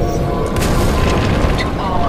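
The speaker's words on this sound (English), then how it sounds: "Detonate charges 21 through 29." Demolition charges detonating in Titanfall 2, a loud sustained rumbling boom with layered crackling blasts filling the whole moment, close and heavy.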